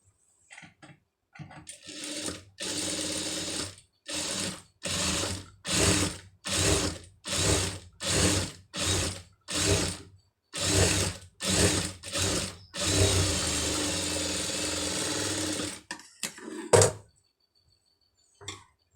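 A sewing machine stitches piping onto a hand sleeve in a run of short, evenly spaced mechanical bursts, ending in one longer continuous stretch of stitching, loud and close with no voices.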